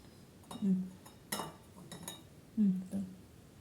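A knife cuts through a tray of milk powder burfi with a few distinct clinks and taps against the pan, spaced irregularly and heard close up.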